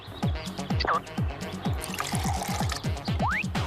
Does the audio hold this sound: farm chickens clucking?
no